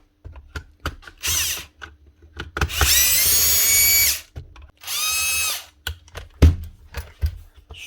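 A power driver spins screws out of a Milwaukee nailer body in loud whirring bursts, two long runs separated by short clicks and taps of handling nearby.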